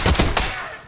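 Shotgun blasts in a first-person shooter game, two or three loud close booming shots in quick succession at the start, each trailing off into a fading echo.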